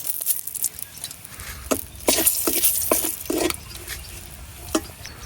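Whole mustard seeds and two dried red chilies hit hot fish oil, giving a crackling sizzle with a run of sharp spits and pops, some brisk stirring scrapes, close and fairly loud.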